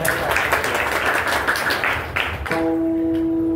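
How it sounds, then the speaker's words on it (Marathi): A crowd applauds for the Bhale Patil family at a Marathi devotional gathering, a dense wash of clapping for about two and a half seconds before it gives way to sustained tonal music. "त्यांच्याकरता एकदा सर्वांनी टाळ्या वाजवा."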